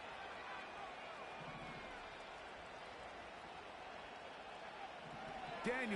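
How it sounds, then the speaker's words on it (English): Crowd noise from a Madden football game fills a stadium at a 2-point conversion, a steady, broad, fairly faint roar held throughout with a voice talking over it. "Listen to this crowd."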